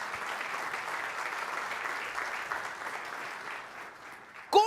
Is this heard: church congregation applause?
yes